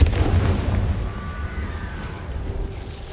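Confringo fire spell blasting in the video game Hogwarts Legacy: a single deep boom at the start that fades into a rumbling tail with faint magical tones.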